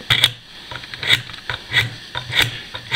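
A knife blade is drawn through a knife sharpener again and again, each pass making a short, loud, gritty rasp in a steady rhythm of about six strokes, up close and with no voices.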